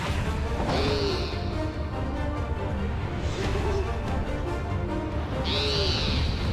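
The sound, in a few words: owl hooting in the video game Final Fantasy XIV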